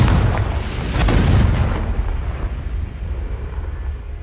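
A Confringo blasting spell explodes in Hogwarts Legacy, a loud booming burst followed by a rumbling tail that slowly fades, with no talking.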